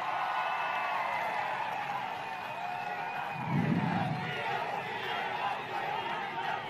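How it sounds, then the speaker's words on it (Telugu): A crowd at a political public meeting in Kovvur roars with cheering and a murmur of voices, filling the space at a steady level, with a brief low swell midway. "తమ్ముళ్ళు అవునంటే గట్టిగా చప్పట్లు కొట్టే హర్షాన్ని ఆమోదాన్ని తెలియజేయండి"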